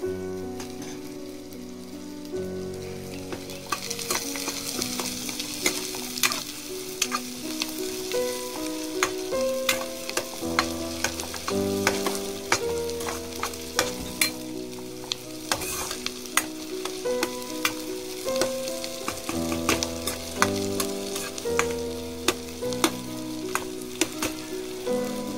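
Onions and curry leaves fry in a pan for an Indian egg gravy, a steady close sizzle under the irregular scrape and clatter of stirring, with no speech throughout.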